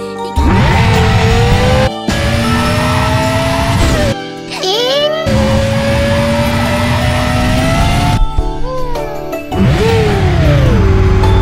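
A person vocally imitates a revving supercar engine, with loud, sustained engine-like drones rising and falling in pitch across several long bursts with brief pauses between them.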